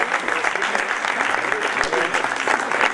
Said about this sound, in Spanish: Fuerte aplauso, como no, a este mariachi.